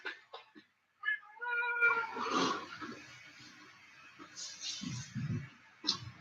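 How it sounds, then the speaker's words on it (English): Cat meowing, a few short close cries at first, then a longer drawn-out meow followed by softer mewing and breathy sounds, with a final brief meow near the end. "It's the Ditto Kitty, folks."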